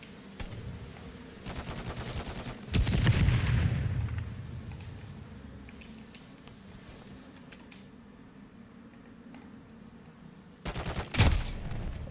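Gunfire in Call of Duty Modern Warfare III during the Vortex: Decay's Realm event, a burst of shots and a booming blast, then quieter game ambience before another sharp burst near the end.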